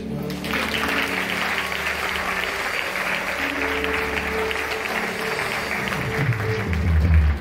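A church congregation applauding and acclaiming the Lord during a French-language prayer service, a steady dense wave of clapping and cheering that swells slightly at the end.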